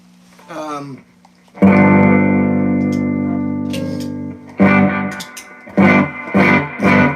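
Distorted electric guitar chords ring out with echoing repeats, a long sustained chord followed by several shorter strummed hits.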